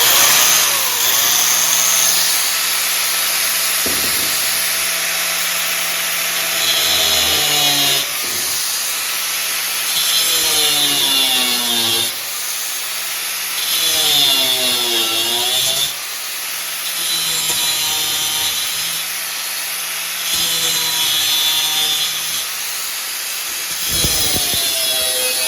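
A power saw cuts through a metal railing bracket in repeated whining bursts that rise and fall, separated by brief pauses, loud and close.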